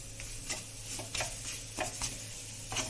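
Wheat flour roasts in a pan for ginger halwa while a spoon stirs it, soft rhythmic scrapes recurring roughly every half second over a low, quiet sizzle.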